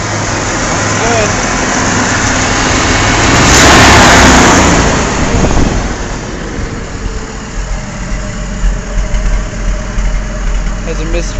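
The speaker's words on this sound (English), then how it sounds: "Has a misfire at idle." A truck engine idles roughly with a misfire, a steady loud rumble throughout that swells briefly near the middle, with a voice speaking over it.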